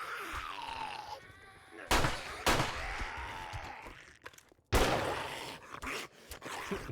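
Gunshots from the zombie survival game 7 Days to Die during a horde night, several sharp loud cracks spaced irregularly among groaning and growling game sounds.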